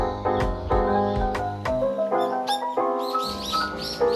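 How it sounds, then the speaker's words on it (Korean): Birds sing in a camellia forest on a mountain, a run of clear, close chirps and warbled notes in quick succession with no talking. "맑고 고운 새소리를 듣고 있으니"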